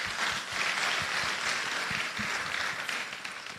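Audience applause for the governor at a central bank annual lecture, a steady dense wash of many hands clapping with no voices over it.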